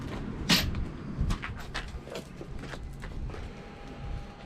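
A small storage drawer in a van slides out beside a slide-out bike rack, giving a sharp clack followed by a run of rattling knocks and scrapes, fairly close and loud, with no talking.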